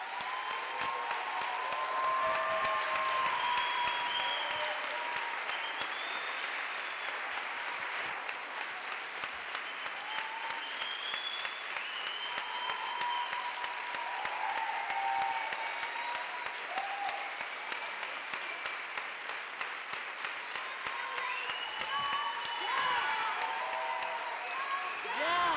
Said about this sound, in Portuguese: Y les pido un aplauso para ellas.